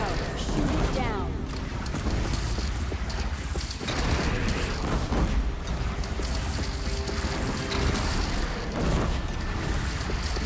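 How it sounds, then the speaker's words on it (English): Dense, sustained crashing rumble and heavy booms as a bridge gives way under fire in Horizon Zero Dawn, loud and continuous with blasts and debris throughout, with a voice talking over it. "Bridge is coming down. Shoot it down."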